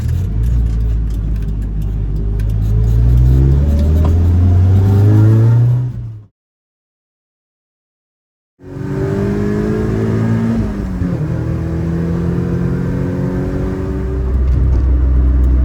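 Toyota Levin GT Apex engine droning steadily while driving, with rising and falling pitch through gear changes, loud and close from inside the car, cutting out briefly before resuming.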